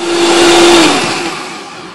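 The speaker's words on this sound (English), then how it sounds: "I'm going to go ahead and whirl up the cheese sauce." A blender whirls up a cheese sauce for butternut squash mac and cheese, a loud, steady motor whir that holds one pitch, then drops slightly and eases off as the blades spin down, with no voices.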